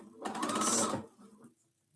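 A sewing machine runs a quilt seam in a short burst of rapid, rhythmic needle stitching, close and clear, then stops, leaving faint handling noise and no talking.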